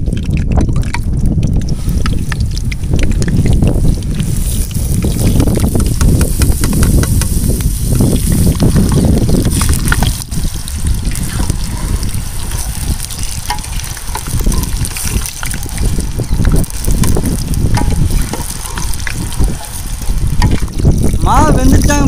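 Then mittai batter frying in hot oil, a dense continuous sizzle and bubbling that stays steady and loud throughout, with some stirring noise and no voices over it.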